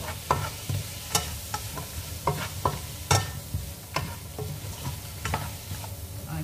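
Tomato paste frying in a pan as it is stirred, with a steady close sizzle under repeated sharp scrapes and clinks of the utensil against the pan at an uneven rhythm, no talking.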